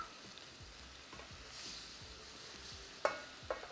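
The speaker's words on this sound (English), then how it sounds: "Give it a nice stir." Heavy whipping cream being stirred with garlic in a hot pan, giving a soft bubbling sizzle with faint scraping strokes and two sharp utensil clinks near the end, with no voices.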